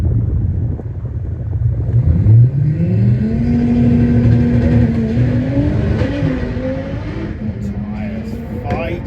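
A drag race car running on nitrous at Santa Pod roars down the strip, its engine note rising in pitch as it accelerates hard and then fades with distance, with a commentator talking over it.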